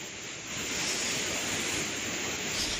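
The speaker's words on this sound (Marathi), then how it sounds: "अत्यंत कमी उंचीवरून कोसळणारा अतिशय सुरक्षित असा हा शिवडाव धबधबा मानला जातो." Water from the low Shivdav waterfall in Sindhudurg pours in a continuous broad roar, loud and steady throughout, with no voices.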